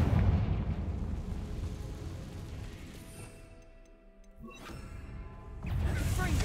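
Confringo fire spell blasts in the Hogwarts Legacy video game: a loud, roaring burst that fades over a few seconds, then a second explosive burst near the end.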